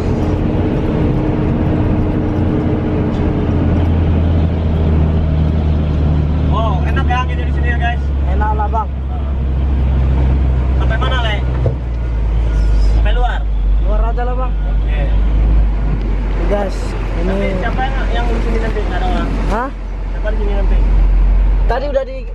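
A Hino 500 truck engine drones low and steady while the truck is moving, a constant rumble running beneath people talking in the cab throughout.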